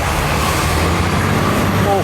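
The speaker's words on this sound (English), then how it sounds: "Truck almost ran me over." A truck passes very close by, a loud, dense road rumble with engine drone and traffic noise, as a voice speaks over it.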